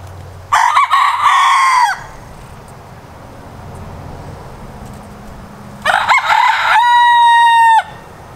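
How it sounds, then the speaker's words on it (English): Two loud rooster crows close by, one early and one after a pause of a few seconds, with quiet ambient noise between. "we have three roosters out here"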